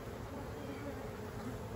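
Honey bees buzz faintly and steadily around hives during a colony split, a continuous soft insect hum with no voices.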